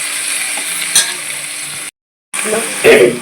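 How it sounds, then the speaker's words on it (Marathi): Ginger garlic paste sizzles in a hot pan while being stirred, with steady frying hiss, a couple of spoon scrapes and clinks, and a brief cut to silence before the sizzling and stirring resume. "त्यामध्ये घालू आपण थोडं आलं लसूण पेस्ट आणि त्यांना मिक्स करूया."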